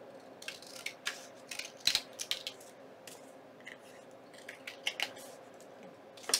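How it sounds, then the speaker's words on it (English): Scissors trim paper for a craft pocket on a document holder, with a quick series of close, crisp snips in irregular bursts over a quiet background. "Now let's get this one trimmed."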